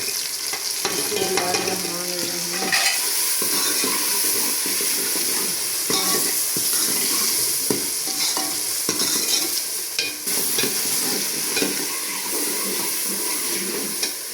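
Red chili, salt and turmeric fry in hot oil with a loud, continuous sizzle and hiss, punctuated by frequent scraping stirs of a spoon against the pan throughout.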